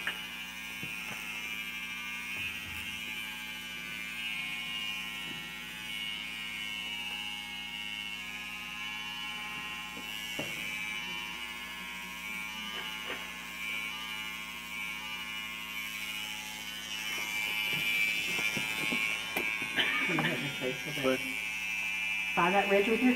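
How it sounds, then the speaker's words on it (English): Small electric hair clippers buzz steadily while trimming hair around the ear, a close continuous whine that grows louder toward the end, with a person talking intermittently over it. "I like these smaller clippers because I can handle them better than the big ones around the ear."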